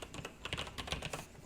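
Computer keyboard typing with quick, irregular key clicks in a short burst, close and fairly quiet, with no voices.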